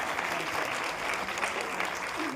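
Sustained applause from the audience at a large Prajapati community meeting, steady dense clapping filling the whole stretch without a break.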